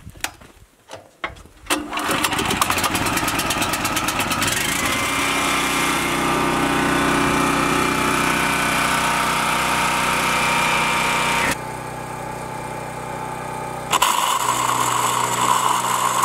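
A small portable generator engine fires up after a few pulls on the starter cord, then runs steadily and loudly nearby at a constant drone, briefly easing in load before revving back up, with no talking.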